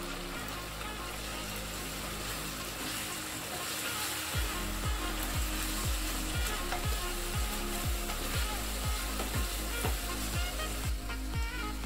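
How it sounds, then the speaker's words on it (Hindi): Chicken with ginger garlic paste fries loudly over a high flame, a steady sizzle with regular low scraping strokes of a spoon stirring the pan roughly every half second. "इसे भूनेंगे हाई फ्लेम पे।"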